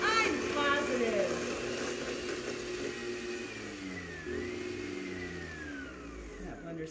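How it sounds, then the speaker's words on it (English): A kitchen blender runs steadily and loudly throughout, its motor pitch sliding and shifting as it works, with a voice speaking faintly under it. "That blender's happy."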